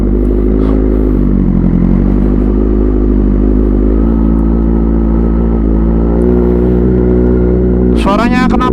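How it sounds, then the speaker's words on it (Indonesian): A 2012 Honda CBR1000RR 20th Anniversary motorcycle fitted with an M4 exhaust rumbles loudly and continuously up close, its engine note rising and falling, ending in a sharp high rev near the end. "Suaranya knalpot M4 mantap ya, ngeblar."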